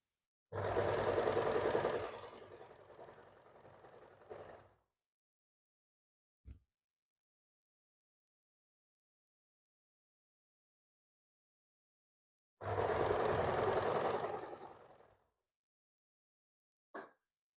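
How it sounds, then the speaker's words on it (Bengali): A sewing machine runs in two bursts, each a few seconds long, as it stitches the waistband of a blouse. Long silences separate the runs, and a couple of short, faint clicks fall between them. "প্রথমত আমি মেশিনে সেলাই করছি"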